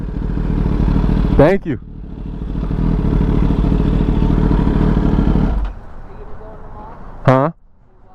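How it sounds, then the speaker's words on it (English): A 2021 Kawasaki ZX10R sport motorcycle engine runs close by while riding, a loud steady growl that cuts off abruptly near the end, with brief speech heard. "ZX10R. You see it, you hear it. Really riding."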